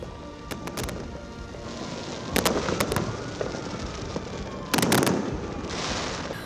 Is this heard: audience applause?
no